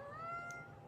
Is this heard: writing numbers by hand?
no